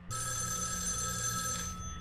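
A telephone rings inside a horror adventure video game, a bright continuous electronic bell trill lasting about two seconds, steady and moderately loud with no talking.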